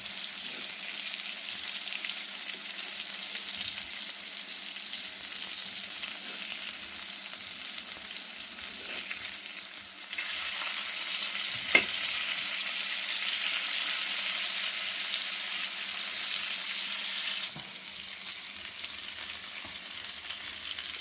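Kingfish (surmai) fillets shallow-frying in a pan, a steady, even sizzle that runs unbroken throughout, with a few faint clicks and soft knocks near the end.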